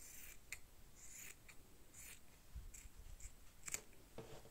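Scissors snip several times through excess zipper fabric while sewing a zippered cloth pouch, quiet and close, with short irregular cuts and no talking.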